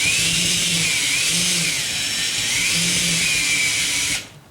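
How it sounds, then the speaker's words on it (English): A power drill running in reverse whirs at a steady high pitch, loud and close, then abruptly stops near the end. "I'm actually running the drill backwards."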